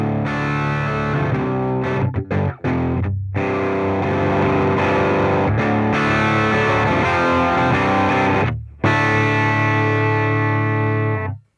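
Electric guitar run through a ToneX Camel Rock amp tone model, loud and distorted with a chorus-like shimmer, playing sustained riffs and chords with two short breaks, no talking.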